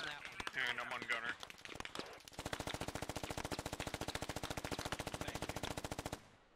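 Sustained automatic gunfire in the military shooter Squad, a dense rapid burst of rounds lasting several seconds after some shouted talk, loud and close.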